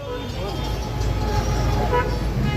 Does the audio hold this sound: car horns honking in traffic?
yes